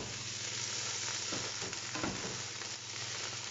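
Tomato paste being stirred into a frying pan for pasta with hotdog, a constant close sizzle with a couple of brief scraping strokes of the spoon partway through, no voices.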